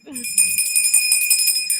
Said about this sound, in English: I'm gonna ring the bell just for you being here